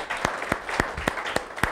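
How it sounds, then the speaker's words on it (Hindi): Students in a class clap for a classmate, and sharp individual claps ring out at a fairly regular pace, close and clear above a faint room murmur. "और दिव्या के लिए भी ताली बजा दो एक बारी।"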